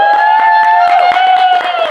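An audience in a lounge claps and cheers, with rapid claps and a loud sustained whistle or tone riding over the crowd noise for under two seconds.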